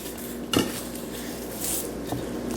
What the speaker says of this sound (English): I like to chop the ends off the garlic